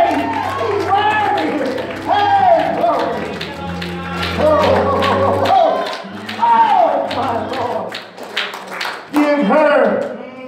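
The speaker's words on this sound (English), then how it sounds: "Somebody clap your hands and give him praise." Church congregation clapping hands in praise during a sermon: scattered, sharp claps spread through the room, under a preacher's loud, emphatic speaking voice.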